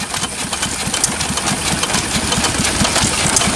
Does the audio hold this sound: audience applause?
no